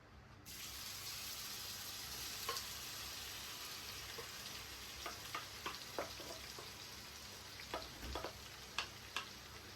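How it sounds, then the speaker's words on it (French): Onions mixed with nokos seasoning fry for Senegalese chicken yassa, a faint steady sizzle under a low hum, with scattered soft crackles and pops growing more frequent toward the end. "Et puis je passe à la friture."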